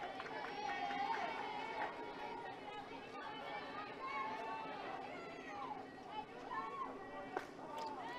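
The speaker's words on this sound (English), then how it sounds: "Pretty lively crowd we've got here in Calera" A lively crowd at a high school softball game in Calera, Mortimer Jordan vs McAdory, chatters and calls out at a distance. The overlapping voices and occasional shouts stay fairly faint throughout.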